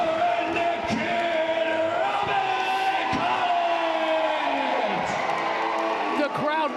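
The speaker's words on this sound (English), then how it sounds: "the crowd erupts with the victory of the Redneck Kid" An independent wrestling crowd roars and cheers steadily after a heavyweight title tournament victory, the sustained noise close and loud, with a commentator talking over it.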